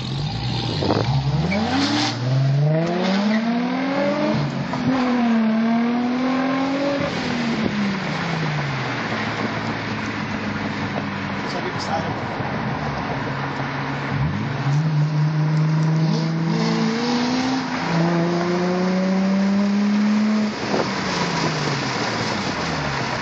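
A Chevrolet Corvette ZR1 driven hard sounds loud and close, its engine revving up and down in repeated rising and falling sweeps, holding high revs between gear changes.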